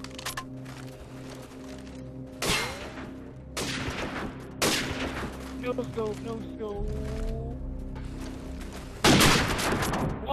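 Gunfire in a first-person shooter video game, with several sharp loud bursts and single shots spread across the clip, amid game tones and a person talking.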